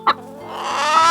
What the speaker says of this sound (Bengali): এটা হলো মুরগি। মুরগিকে ইংলিশে বলে হেন।